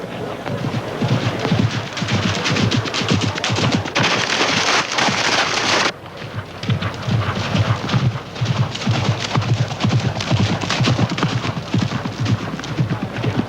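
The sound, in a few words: horses galloping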